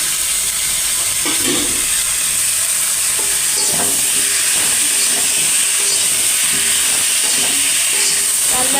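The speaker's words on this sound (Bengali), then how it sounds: "লাল লাল করে ভাজা হয়ে গেছে," Fish curry with tomato and ground coriander fries in a pan, giving a loud, steady sizzle and hiss throughout, broken by scraping stirring strokes.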